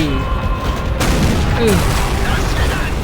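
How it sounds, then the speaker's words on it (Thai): A broadband blast bursts at about one second in Call of Duty: World at War, landing over a rumbling battlefield bed with scattered gunfire, while someone talks excitedly in Thai. "ระเบิด"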